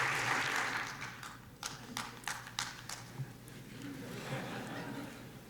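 An audience at a Democratic Leadership Council luncheon claps, fading from a fuller round into a few scattered, separate claps, fairly faint with room murmur underneath.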